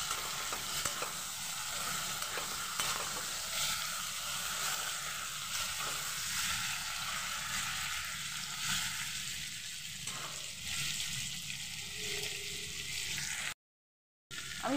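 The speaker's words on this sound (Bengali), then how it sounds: "আদা রসুনের পেস্ট দিয়ে দিচ্ছি। পেস্ট দিয়ে একটু নাড়াচাড়া করে নেব।" Chicken pieces fry in a pan with ginger-garlic paste for a potato curry, a soft, continuous sizzle with occasional stirring, steady throughout apart from a brief dropout near the end.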